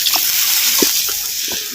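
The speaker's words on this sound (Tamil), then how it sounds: "அப்படியே தண்ணி வந்து சேர்த்துக்கிறேன்." Water pours in a continuous close gush into a pan of black urad dal curry. It is loud and steady for under two seconds, with a few faint clinks underneath.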